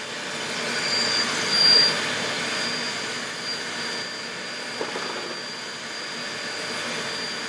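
Electric mixer whipping cream into butter, a steady high whirring whine running the whole time at close range with a faint clunk partway through and no voices.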